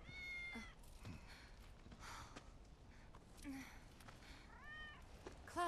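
A cat in Final Fantasy 7 Remake gives several soft, rising and falling meows spread across a few seconds, faint and close, with a little breathy vocal noise between them.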